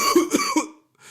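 A man coughs hoarsely in a storm drama, three rough bursts in quick succession, close and fairly loud, followed by a short silence and a faint breathy sound.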